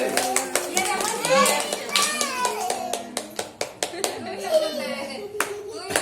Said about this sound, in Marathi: शंभ्या टाळ्या वाजव.